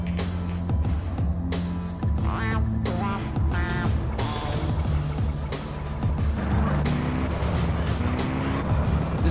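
A car drives in Grand Theft Auto San Andreas Definitive Edition, its engine droning loudly with tones that rise and fall as it revs and shifts, mixed with game noise throughout.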